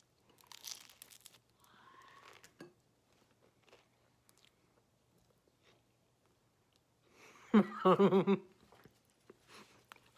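Rarebit of melted cheese and beer is chewed close to the mic, with scattered soft mouth sounds and then a dense burst of crunchy bites and chewing partway through, in an otherwise quiet room.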